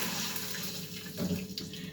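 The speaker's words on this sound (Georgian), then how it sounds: "დავუმატოთ წყალი." Water is poured from a tap or jug into a cooking pot in a home kitchen, a short steady splashing gush at moderate volume, with no voices.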